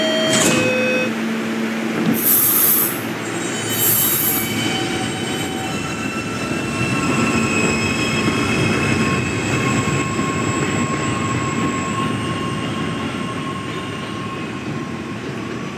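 A New York subway E train sits at a station and pulls out, with door chimes early on, then a loud steady rumble of motors and wheels building as it rolls away.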